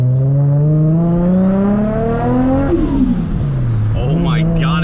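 A Toyota Soarer tuned to over 600 horsepower revs up with a rising, harmonic-rich engine tone, then drops back and climbs again, loud and close, with a voice speaking over it.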